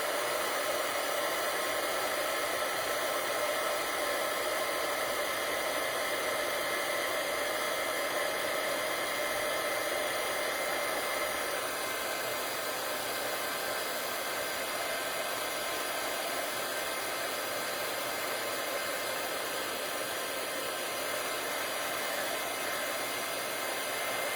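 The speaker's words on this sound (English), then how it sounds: "Now it's going to get loud for maybe 30 seconds while I turn on my heat tool, and we'll emboss this." A heat tool blows steadily while embossing powder is melted on a handmade Christmas card, a loud, constant, breathy roar like a hair dryer that runs unbroken and close for the whole stretch with no talking.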